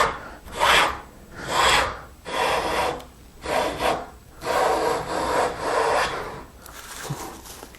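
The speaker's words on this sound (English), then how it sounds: "I don't want to push that plane off the edge and cause a dip at the end" Hand plane shaving two wooden boards clamped together for a table top, a series of close, rasping strokes, about seven long passes with brief gaps between them.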